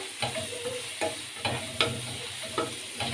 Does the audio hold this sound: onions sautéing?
yes